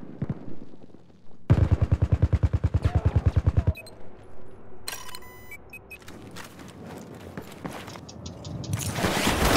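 A Type 88 light machine gun fires in Battlefield 4, with a rapid sustained burst of shots followed by scattered distant gunfire, clicks and rising battle noise.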